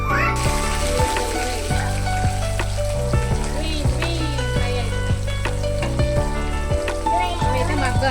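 Ingredients for a liver fry sizzle in hot oil in a kadai on a gas stove, a continuous crackling hiss that runs throughout, partly masked by music playing loudly over it.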